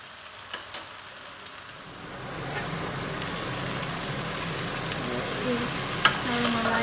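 Onions caramelizing in a pan for a home-style lamb Sindhi biryani, giving a continuous sizzle that slowly grows louder, with a few stirring clinks.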